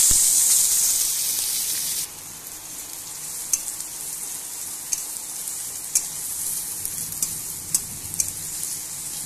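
Onion, green chili and bay leaf sizzle steadily in hot oil, a broad continuous hiss with a few sharp pops and crackles scattered through, close by and with no talking.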